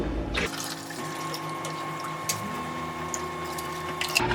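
Water pours steadily into the reservoir of a Keurig coffee maker, a continuous close trickle and splash with a faint mechanical hum underneath, no talking.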